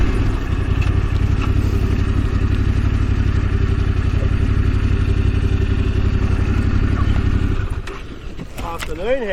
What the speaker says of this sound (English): I thought I could hear a bike there.